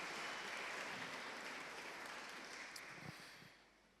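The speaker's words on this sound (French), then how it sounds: "On peut les applaudir, merci." Broad, steady crowd clapping at a church sermon that fills the clip, gradually fading toward the end with a few stray claps.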